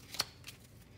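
Cards from a deck of playing cards are shuffled in two quick, faint papery riffles close by, with a quiet pause between them.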